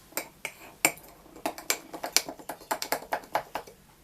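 Dehydrated herbs being stirred down into liquid poured over them for a homemade herbal formula, heard as a quick, uneven run of light spoon clicks and taps against the container, close and clear with no talking.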